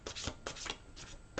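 A deck of tarot-style playing cards shuffled by hand up close: a few soft, quick riffling and rubbing bursts, faint and papery, with no talking.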